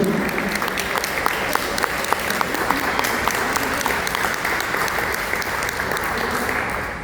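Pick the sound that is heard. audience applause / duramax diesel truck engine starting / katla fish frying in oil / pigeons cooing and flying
audience applause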